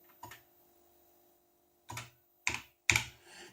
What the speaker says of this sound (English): you type Shift, Control, and Insert, and where you can, now you can type the Hebrew text